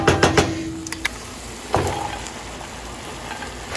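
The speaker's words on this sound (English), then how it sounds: "The sausage and the turkey has been cooking for 10 minutes now." Sausage and ground turkey sizzle and fry in a pot for one-pot chili mac, with a few sharp clinks of a utensil early on, then a steady low sizzle.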